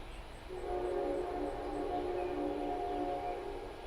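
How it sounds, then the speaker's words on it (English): A train horn blasts near the tracks in one sustained, steady tone lasting about three seconds, loud and close, with a faint rumble underneath. "Blast that horn one more time."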